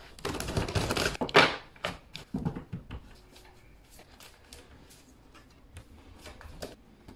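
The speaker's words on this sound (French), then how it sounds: "Avec Céleste qui gratte, bien sûr, sa litière." A cat scratches and digs in its litter box nearby, with a burst of rapid scraping and rustling early on that thins to sparse, quieter scratches and taps.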